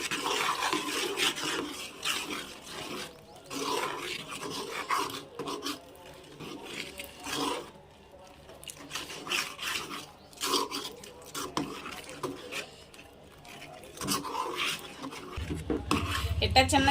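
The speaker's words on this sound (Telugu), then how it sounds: "దీన్ని అయితే ఇట్లా నేను గట్టిగా గంటితో మూకుడు కేసి అయితే మెత్తగా చేసుకుంటున్నానండి" A ladle scrapes and presses lumps of gram flour against a pan while making Mysore pak, giving repeated irregular metallic scrapes and taps close by, with a voice speaking at times.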